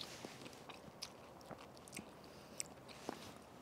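Someone chews sausage with sauerkraut at a lakeside lunch in the woods, giving soft, steady wet chewing and occasional crunchy bites close to the mic, with quiet outdoor ambience.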